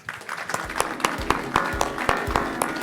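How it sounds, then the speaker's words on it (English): Audience at a payments conference panel applauds the panelists, with scattered individual claps standing out over a moderate, steady round of clapping that builds slightly toward the end. "Please give a big round of applause."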